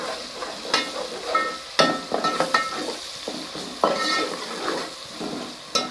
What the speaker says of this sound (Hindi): देखें इतने इतने प्याज हल्के से ब्राउन करने हैं और फिर इसमें अदरक लहसुन का पेस्ट